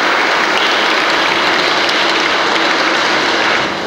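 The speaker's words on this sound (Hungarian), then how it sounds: "kérlek benneteket, kedves gyerekek, hogy egy nagy tapssal köszöntsük az előbb felsorolt tanulókat" Schoolchildren at a school year-end ceremony held in a church give a big, sustained round of applause, dense and loud throughout without talk.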